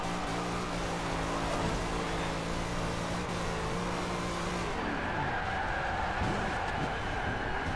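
A car drifting with continuous loud tire squeal and a strained engine note, close and sustained, the pitch of the skid shifting partway through.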